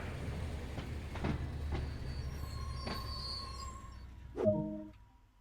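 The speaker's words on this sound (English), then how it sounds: "Please hold on to your coffee while we decelerate the train." Rumbling train in Train Sim World 2 with periodic clunks from the wheels, ending in a sharp metallic squeal of brakes as it slows.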